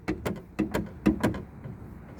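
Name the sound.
loose rattling sound when opening 2018 Chevy Malibu driver's door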